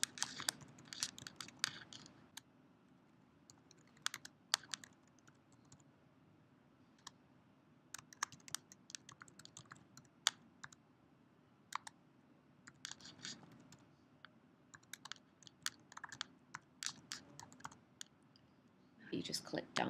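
A computer keyboard is typed in short, quiet bursts of close clicking, with pauses between the runs and a person speaking softly in the background.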